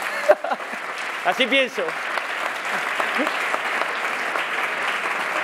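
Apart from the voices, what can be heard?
audience applauding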